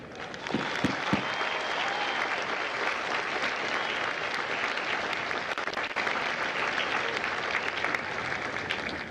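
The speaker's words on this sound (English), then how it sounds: "would you please join me in a round of applause for the families of God's Company." A crowd at a Marine Corps recruit graduation ceremony at MCRD San Diego breaks into sustained, dense applause that stays steady and loud for the full nine seconds, with a few sharper claps near the start.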